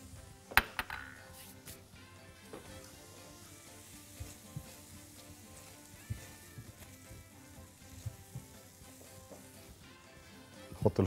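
Butter sizzling in a pan while making a mushroom hot dog sandwich, a quiet steady crackle with a few sharp clinks of utensils against the pan and no talk.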